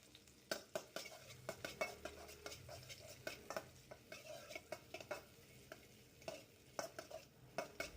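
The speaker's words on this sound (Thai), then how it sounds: "นำ พริกกระเทียมแล้วก็เต้าเจี้ยวเอาลงไปผัดให้ส่งกลิ่นหอม" Chili, garlic and fermented soybean paste stir-fried in oil, with a faint sizzle under frequent close scrapes and taps of a utensil against the pan.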